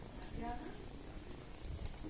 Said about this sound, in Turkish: Küçük kediciğimle uğraşıyorum.